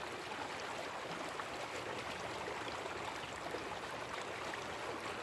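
Flowing mountain creek water at a Colorado gold mining site, a steady broadband rush and gurgle that stays constant, close and fairly loud throughout.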